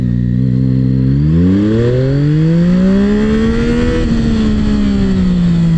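A Yamaha MT-09 motorcycle with automatic transmission accelerates hard in first gear, its engine note climbing steadily in pitch without a gear change, loud and close throughout, with no voices.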